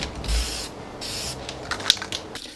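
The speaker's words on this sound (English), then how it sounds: "So I'm going to use some of this metallic spray paint." Metallic spray paint hisses from an aerosol can in a few close, loud bursts with short gaps between them, used while painting a glued-together diamond play button prop.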